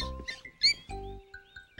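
A cartoon-style mouse squeaks in a children's farm story, a few quick high chirps with light chime-like tones, brief and close.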